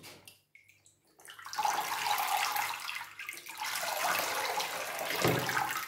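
Water pours onto the roots of a potted Catasetum orchid, a steady close splashing and trickling that starts after a brief quiet moment and runs on, swelling briefly near the end.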